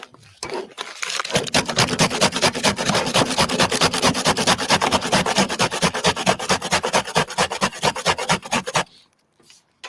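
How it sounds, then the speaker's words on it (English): A cheese grater scrapes rapidly over a balled-up book page in a fast, even rasping rhythm lasting several seconds, loud and close, then stops abruptly. "Okay, so she's going to ball it up and then use the cheese grater."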